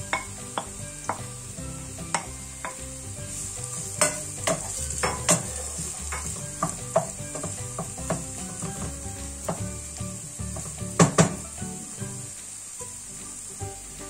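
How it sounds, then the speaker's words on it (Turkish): Chopped onion fries in hot oil in a pan under a soft, steady sizzle, while a utensil stirs and scrapes it with frequent sharp clinks and taps all the way through. No one speaks. "Ve pembeleşinceye kadar kavuruyorum"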